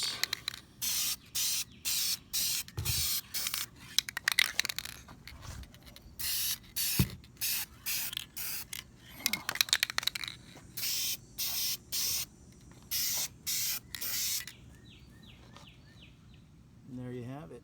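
A spray paint can sprays repeated short bursts of paint onto a Chevrolet badge, a rhythmic series of close, sharp hisses separated by brief pauses, with faint outdoor birdsong in the background and a short mechanical sound near the end.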